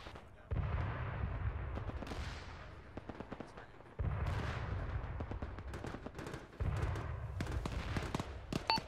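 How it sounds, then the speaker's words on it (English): Distant explosions and gunfire in the military game Arma 3, heard as three heavy rumbling booms, each followed by scattered crackling shots and rolling echoes, with occasional faint voices. "The north appears to be exploding."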